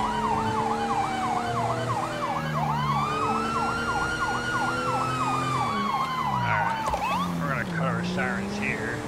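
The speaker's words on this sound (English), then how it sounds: "sirens here." Wailing police sirens in GTA V with the LSPDFR mod, loud and continuous, with two overlapping yelp-and-wail tones cycling rapidly then sweeping, over steady road noise and brief radio-style chatter.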